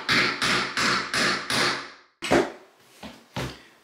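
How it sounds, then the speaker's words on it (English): A hammer drives a chisel against a door hinge pin in five steady, evenly spaced metallic strikes, followed by a few sharper, more scattered taps, all close and loud with no talking. "We're using a hammer and a chisel to get this thing out with."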